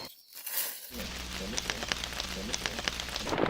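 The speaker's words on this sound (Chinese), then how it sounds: "係啊，落雨啊，上唔到樹咧" A sudden heavy downpour breaks over a fruit-harvesting farm in Guangdong: a close, steady hiss of rain builds quickly after a brief quiet start, with sharp drops and splashes pattering irregularly throughout.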